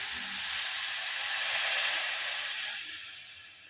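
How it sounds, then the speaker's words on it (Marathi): Sugar syrup with water cooks in a kadhai for coconut barfi, giving a soft, steady bubbling hiss that swells and then fades slightly, with no voices. "आता इथं पाक होत आहे"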